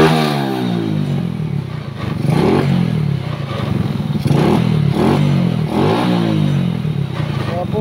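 A motorcycle with a fault that makes it stall at night, its engine revving repeatedly in loud, close surges with clattering mechanical noise, while a voice talks faintly underneath.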